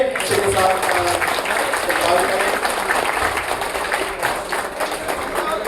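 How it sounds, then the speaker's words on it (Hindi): Loud applause rises at a political community meeting in Maharashtra, a steady wash of crowd clapping with a voice carrying over it throughout. "जोरदार तालियों से"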